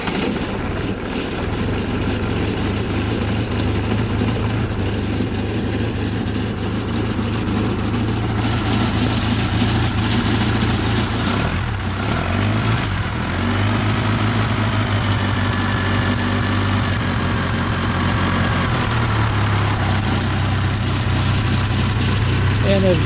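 An Atomic 4 inboard boat engine idles steadily with a dry stack muffler, a loud continuous low rumble with even pulsing that runs close up for the whole stretch.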